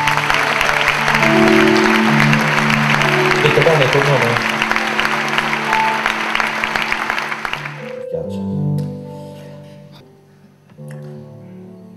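Audience applause greeting a guest actor on stage at an Italian comedy show, a dense crowd clapping over music for several seconds before fading away as a voice speaks over the remaining music.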